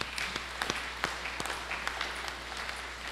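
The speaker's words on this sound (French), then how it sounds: "Acclamez les sœurs." A church congregation at a Sunday Mass for mothers applauds the nuns, steady close clapping from many hands filling the whole three seconds.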